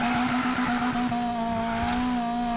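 A Nissan S13 180SX/Sileighty drift build in Need for Speed Payback, about 500 horsepower, holds a high, buzzing pitch against the rev limiter, a steady strained whine with a slight stutter, no voices.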